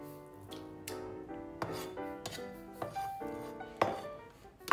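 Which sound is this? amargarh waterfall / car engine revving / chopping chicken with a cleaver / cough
chopping chicken with a cleaver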